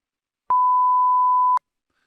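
A censor bleep from a Maonocaster podcast mixer sounds as a single steady, loud tone lasting about a second, clean and unbroken, with silence before and after.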